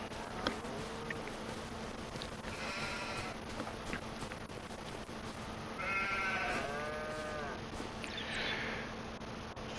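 Sheep bleating in the farming video game Farming Simulator 25, several wavering bleats from more than one animal over a steady buzzing insect-like drone, moderately near and clear.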